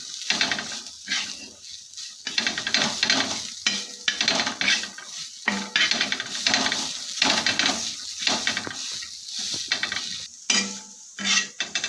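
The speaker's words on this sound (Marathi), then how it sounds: "एक मोठा चमचा जाडसर शेंगदाण्याचा कूट घालते आता पोट व्यवस्थित मिक्स करून घ्यायचं" Ridge gourd peel chutney with coarse crushed peanuts being stirred in a pan, a steady scraping, clattering stir with a soft sizzle running throughout, close and fairly loud with no talking.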